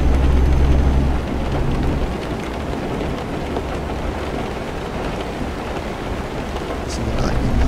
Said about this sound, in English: Some lightning there.